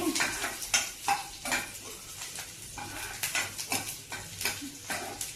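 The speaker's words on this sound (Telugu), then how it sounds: "వెల్లుల్లిపాయలు, పచ్చిమిరపకాయలు, ఎండుమిరపకాయలు వేసాను దీంట్లోనే ఆయిల్ వేసి." Garlic with green and dry chillies frying in oil in a pan for a bottle gourd curry, with steady sizzling broken by frequent clanks and scrapes of a spoon stirring against the metal.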